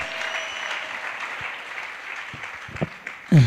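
A church congregation claps in steady applause, a broad even patter of many hands holding at moderate level for a few seconds, with a louder burst of clapping at the end.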